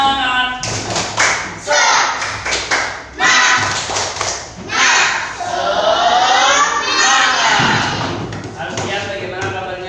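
A group performs the tepuk semangat routine, a patterned chant-and-clap sequence at a daytime gathering, with loud rhythmic claps, thumps and taps in bursts mixed with energetic group voices throughout.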